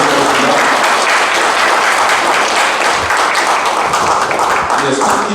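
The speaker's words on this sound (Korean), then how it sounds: "네, 박수 보내주시겠습니다" A ceremony audience at a strategy institute's founding event applauds steadily to welcome a guest, a dense, continuous wash of clapping that fills the whole stretch at full loudness.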